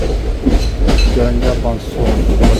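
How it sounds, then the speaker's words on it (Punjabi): Kalka–Ambala Cantt passenger train 54532 running on the line, a steady loud rumble with rhythmic wheel clatter and faint squeals, heard from inside the moving coach with a voice briefly audible. "ਇਹ ਸੀ ਆਪਣੀ ਟ੍ਰੇਨ ਕਾਲਕਾ ਵਾਲਾ ਕੈਂਟ ਹੈ ਪੈਸੇਂਜਰ ਟ੍ਰੇਨ"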